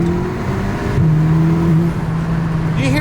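Inside an Audi S3 fitted with a CTS turbo inlet and muffler delete, the engine runs with a steady, droning hum that rises slightly in pitch partway through, loud and continuous with no speech.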